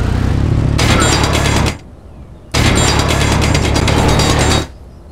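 Two loud bursts of harsh, buzzing mechanical drilling from a mining drill in a space video game, each lasting about a second or two, separated by a short quiet gap.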